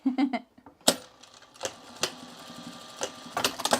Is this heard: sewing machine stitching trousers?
yes